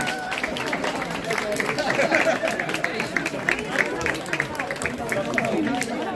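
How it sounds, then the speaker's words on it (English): Audience clapping at a public gathering, scattered and steady under continuous crowd chatter and voices throughout. "What are they clapping for?"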